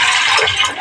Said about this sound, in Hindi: और इसको डाल दिया मैंने पानी